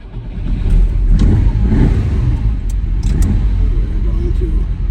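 A 1974 Ferrari 246 GTS Dino engine pulling away at night, a loud close rumbling engine note rising and holding steady, with a few light metallic ticks over the top.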